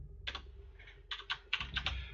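A few quick keystrokes tap on a computer keyboard close by, as short bursts of clacking keys separated by brief gaps, over a low background hum.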